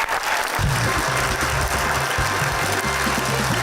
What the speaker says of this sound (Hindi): भरपूर तालियां प्लीज